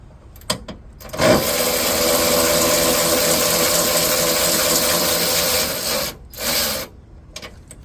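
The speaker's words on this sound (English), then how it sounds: "Basically, this is a electric ratchet, just makes the job easier." An electric ratchet spins bolts off a radiator cooling fan on a Chevy Silverado or GMC Sierra, with a few short clicks, then one long steady whirring buzz of about five seconds, a brief pause and a short final burst.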